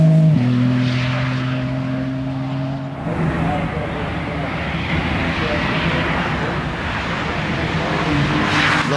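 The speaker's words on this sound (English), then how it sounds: "it's BMW M4 CSL" A BMW M4 CSL race car runs the Goodwood Festival of Speed hill during the qualifying shoot-out. Engine tones hold, then drop into a broad roar with tire and road noise as it passes, with commentators talking throughout.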